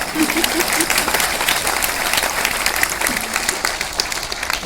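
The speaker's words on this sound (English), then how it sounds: "I don't know why you're clapping." An audience in a packed lecture hall claps in sustained, dense applause, loud and close, with faint murmurs underneath and no break across the span.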